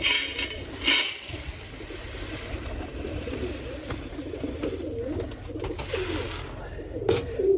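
Pigeons coo in a steady, overlapping chorus around a feeding spot scattered with mixed grain of wheat, mustard seed and millet, with a few brief knocks and rustles breaking through.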